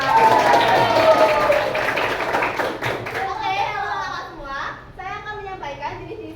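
Students clap for the first presenter of a school group project, a short loud round of clapping that gives way to children's voices and talking.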